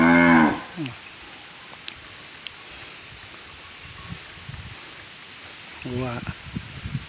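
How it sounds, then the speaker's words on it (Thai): Cattle let loose beside a rural creek in Thailand give two drawn-out, loud moos, one at the start and another near the end, with quiet outdoor rustling between them. "นี่ก็เป็นวัวชาวบ้านที่เขา มาปล่อยอยู่ข้างริมห้วย"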